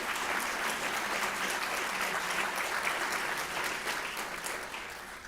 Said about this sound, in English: Could you stand up and give your teachers some applause?